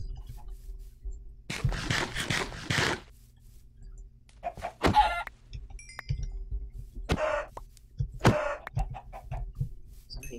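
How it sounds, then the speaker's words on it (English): Chickens clucking in a farming video game: a burst of rapid clucks, then a scattering of short, sharp clucks and squawks spread out over a low steady background hum. "So many chickens."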